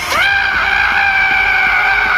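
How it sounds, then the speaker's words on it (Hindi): Bloodcurdling scream sound effect in a ghost story: one loud, sustained, shrill scream that rises sharply at the start and then holds steady and piercing, close and alone. "गांव वालों ने सोहम की रूह कपकपा देने वाली चीख सुनी।"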